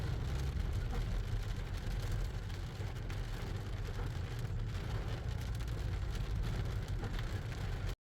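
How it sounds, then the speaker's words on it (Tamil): Heavy rain mixed with hail pours down in Uganda, a dense, continuous roar of drops hitting surfaces that holds steady from start to finish. "செம்ம மழைங்க நாங்கள் போகல நல்லா ஐஸ் கட்டி கியூவு மழை டப்பு டப்பு டப்பு டப்புன்னு சத்தம் கேட்கும் பாருங்க"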